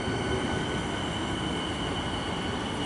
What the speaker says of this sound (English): we've got a Williamstown service departing